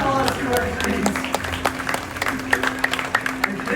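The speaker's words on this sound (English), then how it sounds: "Big round of applause to our trees." Audience applause at a live bird flight demonstration, a scattered round of clapping from a crowd mixed with background chatter, fairly close and moderate in volume.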